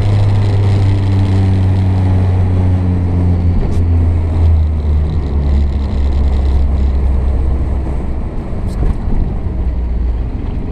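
A 1961 Renault 4CV's small engine hums low and steady as the car circles a roundabout, with a pitch shift partway through, near and continuous, with wind noise and no talk.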